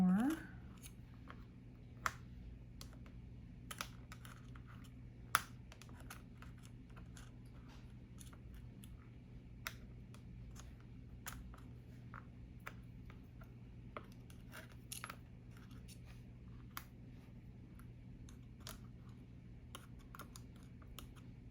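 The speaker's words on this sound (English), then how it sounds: "let's cut some more" Scissors cutting paper, a scattering of sharp, quick snips spread irregularly over a steady low hum, close and crisp, with some soft rustling between cuts.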